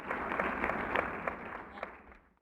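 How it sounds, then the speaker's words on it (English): Muffled applause from a crowd in the video game Beacon Pines patters steadily through walls, a soft dense clapping that slowly thins and fades away. "A muffled applause resonated faintly through the walls."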